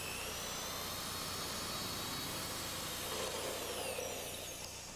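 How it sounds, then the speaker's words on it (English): A steady high-pitched whine of a power drill boring through a car's windshield post and interior trim runs continuously, loud and close, with a slight shift in tone near the end. "complete the hole, drilling all the way through the windshield post and the interior trim"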